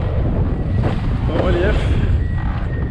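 Strong gusts of wind roar steadily against the microphone while windfoiling off the coast near the Marseille calanques, a loud, rough rush with a faint voice briefly underneath.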